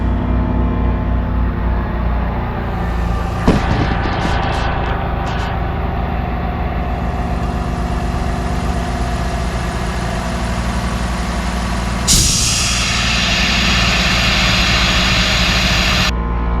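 A car engine idles steadily nearby while a pneumatic brake bleeder is used, with a sharp hiss of compressed air starting midway and continuing over the engine's drone.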